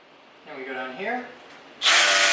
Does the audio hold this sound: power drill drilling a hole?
yes